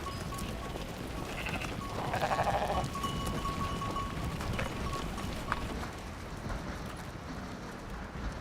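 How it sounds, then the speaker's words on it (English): Sheep bleat from inside a stone-walled enclosure in a Tibetan village, with one clear call standing out over a constant rustle of hooves and movement at fairly close range. "To protect the sheep from Himalayan wolves, they are enclosed in a wall of stones."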